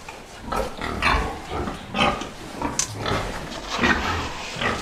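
Piglets grunt and squeal while fighting over food, a close, busy jumble of overlapping snorts and squeals with scuffling noises.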